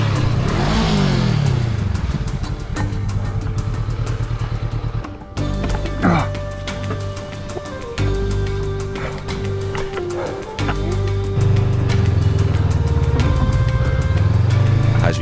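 A big, heavy adventure motorcycle labours over a rough, worsening highland road in West Sulawesi, its engine droning and revving unevenly under steady wind and rumble, with shifts in pitch as the rider works through the terrain.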